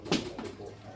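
A pigeon or dove gives a brief, soft coo nearby, a single low murmuring call over faint room background.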